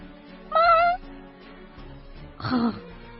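A voice imitates a wild cat twice, a rising meow-like yowl and then a short growling snarl, close by with quiet background.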